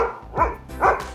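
Two sharp barks from dogs in a Kingston, Jamaica garden, each a loud burst about half a second apart, with a quieter sound at the end and no talking.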